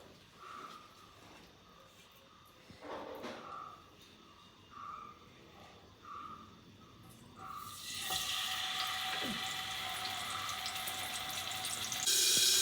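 Mackerel frying in a pan starts as a steady hiss partway through, after a quieter stretch with faint repeated tones, and the hiss grows a little louder near the end.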